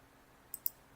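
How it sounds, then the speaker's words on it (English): Two quick, faint computer mouse clicks close together, crisp and isolated against a quiet background hum. "This is me clicking in and out of the game."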